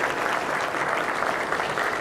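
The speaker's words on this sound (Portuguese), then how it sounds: "Eu gostaria de uma salva de palmas calorosa para esse homem que tem feito muita diferença." Warm applause from the audience at a solemn medal and diploma ceremony in São Paulo, with thick, even clapping throughout a short stretch.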